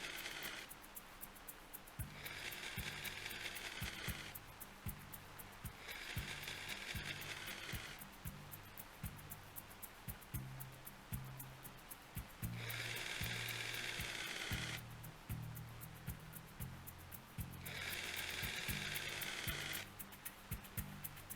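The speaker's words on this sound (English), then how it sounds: "Then you gotta go through and unscrew every single lug." Wheel lug nuts being unscrewed one after another in the Gold Rush video game, with repeated bursts of power-tool whirring and ratcheting, steady and close, alternating with quieter mechanical clicking.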